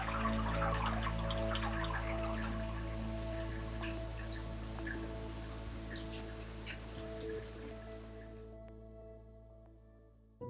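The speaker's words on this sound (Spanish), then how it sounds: "Y la lluvia comenzó." Rain patters steadily on a forest trail, a soft continuous hiss with scattered drips that slowly fades toward the end, with no voices.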